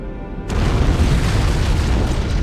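An antimatter charge detonates in Halo: a sudden, loud, deep boom erupts after a brief lull and rolls on as a sustained rumbling roar.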